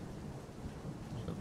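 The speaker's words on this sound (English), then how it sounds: "Big thunder." Thunder in the horror video game Don't Knock Twice, a low rumbling roll mixed with rain-like hiss, steady and moderately loud throughout, heard alone.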